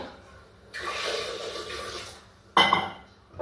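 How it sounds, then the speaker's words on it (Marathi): Water pours from a glass onto washed potatoes in a pressure cooker, a steady splashing stream for about two seconds, followed by a short metallic clatter. "2 ग्लास पाणी टाकून"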